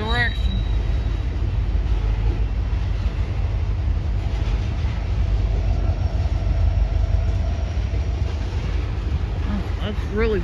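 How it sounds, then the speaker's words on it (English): Trains pass by with a loud, continuous rail rumble and wheel clatter throughout, with brief high brake or wheel squeals at the start and end; a person talks briefly over it. "I literally saw two trains coming at the same direction"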